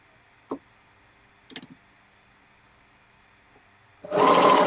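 A sewing machine stitching a jelly roll quilt: a couple of soft clicks and handling taps in near silence, then the motor kicks in with a loud, close, steady whir at the end.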